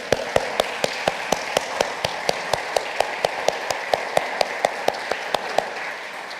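Applause from a church congregation, sounding as a steady patter of individual claps in an even, rapid rhythm that runs throughout, moderately close with a diffuse room wash beneath.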